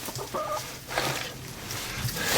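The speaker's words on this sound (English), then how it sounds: "You crazy chickens." Several chickens cluck close by in a barn during freezing winter weather, giving short repeated clucks and soft squawks over a constant noisy background.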